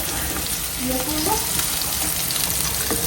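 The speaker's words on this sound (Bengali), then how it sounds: "চিকেন রান্না করতেছি আলু দিব আজকে" Chicken and potatoes fry in a pan with a loud, steady sizzle that runs throughout, close by, with a faint voice briefly audible underneath.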